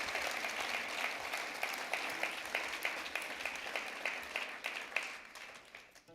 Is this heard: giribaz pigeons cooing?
no